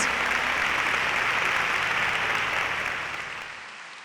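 A church congregation gives a dense, sustained round of applause, a steady wash of many hands clapping that fades away toward the end.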